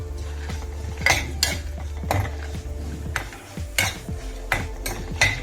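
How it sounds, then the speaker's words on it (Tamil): Coconut pieces roast in a pan for mango kara kozhambu, with repeated scraping knocks from the stirring utensil against the metal over a low, soft sizzle. "இந்த சேர்த்து நம்ம தேங்காயும் போட்டு வறுத்துடலாம்."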